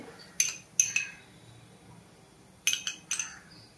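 A metal spoon clinks against a pan while scooping ghee for a fasting-style halwa, sounding as sharp, close taps in two bursts of a few clinks each with a quiet pause between.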